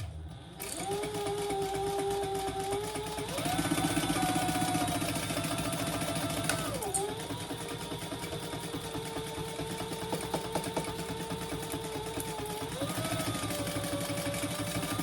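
A sewing machine bastes the side and bottom seams of bag pieces together, its motor running steadily and loud for the whole stretch, with slight shifts in speed and pitch as it stitches, and no talk.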